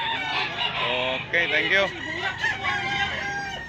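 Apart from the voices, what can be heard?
rooster crowing and clucking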